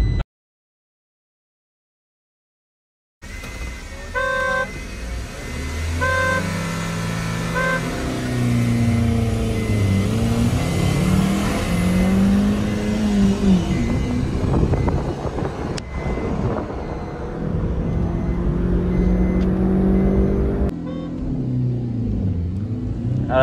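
Fiat Punto CNG and Maruti Swift CNG cars in a drag race: after a moment of silence, engines roar loud and steady, revs climbing and dropping through gear changes, with wind buffeting the microphone throughout.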